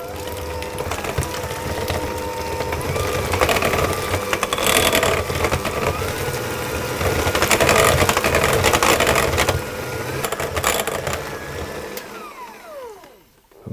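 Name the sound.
whisking egg and vanilla extract together for cookie dough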